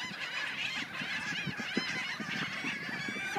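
A large flock of geese squabbling over bread at a feeding frenzy, many overlapping honks and squawks from close by, continuous and busy throughout with no talking.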